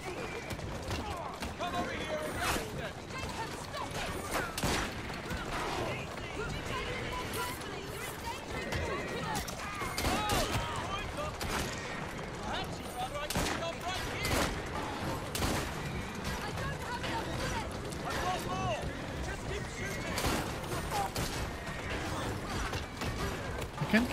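Gunfire in Assassin's Creed Syndicate: scattered sharp shots and bursts crack through a busy, dense mix of game action noise, with voices present throughout the chase.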